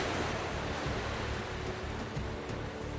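Ocean waves roll and surf washes in a storytelling podcast, a dense, continuous roar of breaking water with a windy, noisy texture, loud and steady throughout with no voice over it.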